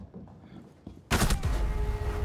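A sharp gunshot in the video game Rainbow Six Siege cracks loudly after quiet, muffled game sounds, followed by a sustained burst of echoing fire and ringing noise.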